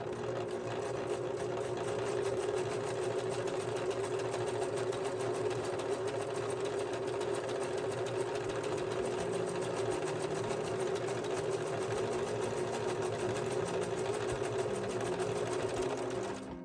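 A sewing machine runs steadily after its snapped thread has been rethreaded, a continuous close mechanical whir with a fast stitching rhythm lasting the whole stretch and no speech over it.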